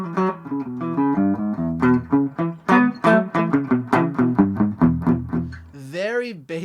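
Clean electric guitar on the neck pickup of an El Degas Studio semi-offset, SG-like guitar with high-output pickups, playing a steady run of single notes and chords, close and clear, with a brief voice at the very end.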